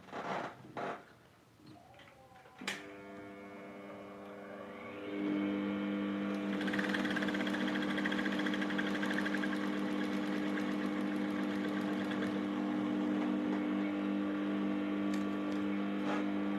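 Sewing machine stitching the side seam of a pair of short pants: a few clicks and handling sounds, then the motor starts and runs in a steady, continuous whirring hum to the end.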